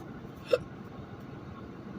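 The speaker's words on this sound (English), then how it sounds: "Someone has the hiccup?" A single sharp hiccup, close and abrupt, standing out briefly against quiet background hiss.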